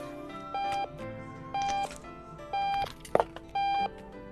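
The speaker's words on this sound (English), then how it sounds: "Where's that alarm?" Repeated electronic alarm beeps in the video game Octodad: Dadliest Catch, four evenly spaced sustained tones about a second apart, with a brief clatter between the last two.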